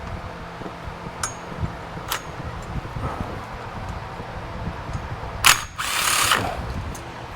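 A 1/4 inch ratchet on a swivel works the cover bolts loose on a 2019 Massimo T-Boss 410 ATV: short bursts of ratcheting clicks with pauses between, then a louder, longer run of clicking near the end.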